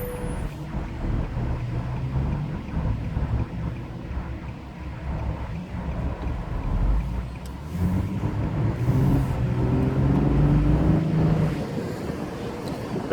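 A 2016 Nissan 370Z Roadster Touring Sport driving with the top down, giving a steady low engine and road rumble mixed with wind buffeting throughout, fairly even and moderately loud with no talking.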